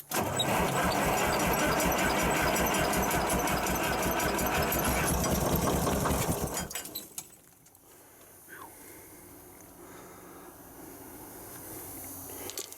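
An old crane engine, tried without starting fluid, cranks and runs with a loud, dense mechanical clatter for about six seconds, then cuts off, leaving quiet background with faint scattered sounds.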